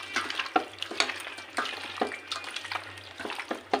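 Raw chicken pieces being worked into a chili paste marinade by hand, a close wet squelching and slapping in irregular bursts over a low hum, with no talk.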